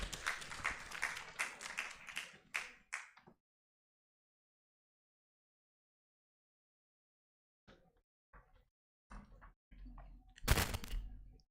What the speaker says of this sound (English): A round of applause for sir,